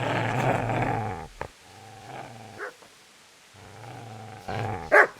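A dog in the video game Kingdom Come: Deliverance growls and snarls in several separate bursts separated by short gaps, close and moderately loud, ending in a sharper snap.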